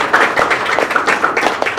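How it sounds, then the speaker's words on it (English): Applause from an audience at a formal event fills the space with dense, steady, fairly loud clapping from many hands, continuing without a break and with no speech over it. "A big hand of applause to every one of you."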